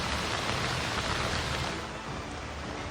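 Heavy, unbroken rain pours down during flooding in Batangas, a dense steady roar close by with no voices.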